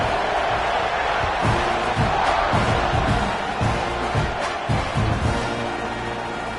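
A football stadium crowd roars before a kickoff in a Miami versus Texas A&M game, a loud sustained wash of cheering with swelling shouts and bursts rising throughout.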